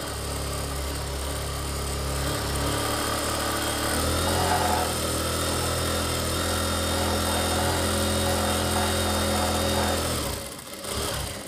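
A sewing machine runs steadily while stitching a churidar pajami, giving a continuous mechanical motor whir with a constant hum that stops abruptly near the end.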